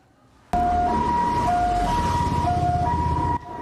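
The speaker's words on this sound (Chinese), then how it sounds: "救护车赶紧驶到工地" An ambulance siren wails in a repeating two-tone pattern at a construction site, loud and close, starting abruptly and cutting off near the end over low traffic rumble.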